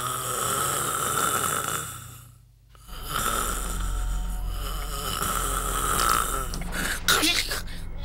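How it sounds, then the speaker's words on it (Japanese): Loud, drawn-out snoring from someone dozing, in an Ultraman Tiga episode: a brief pause, then rasping snores resume close and prominent, with a sharper snort near the end. "そんな大きないびきかいて居眠りすることないでしょ"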